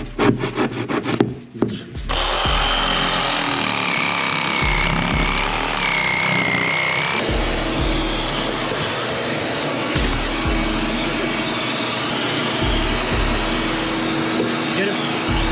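A rat vac vacuum runs with a loud, steady roar as it sucks liquid and debris out of a wall, with rough scraping and knocking over the drone after a burst of handling noise at the start.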